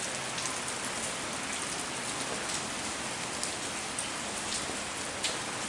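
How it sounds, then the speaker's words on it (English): Steady, dense rain falls throughout, a constant even hiss of drops striking surfaces, with no voices or thunder. "it's like really raining"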